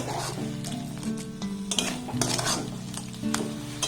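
A spoon scrapes and stirs a bread mixture in a pan over a low-to-medium gas flame, with a steady sizzle beneath repeated close clinks and scrapes.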